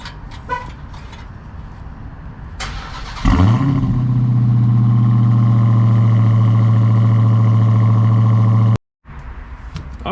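A Dodge Charger Hellcat Redeye, rebuilt after being totaled, starts up on a cold day, its engine catching with a sharp surge and then settling into a loud, steady, close idle that cuts out abruptly before resuming.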